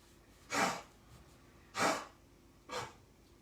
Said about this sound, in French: écouter la chienne qui tousse